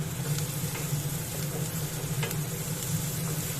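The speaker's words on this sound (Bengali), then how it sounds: "এবার এই রসুনটা ভালো করে ভেজে নিতে হবে" Grated garlic fries in hot oil alongside onion, giving a dense, steady sizzle with a low rumble beneath and a few faint stirring clicks, no voices.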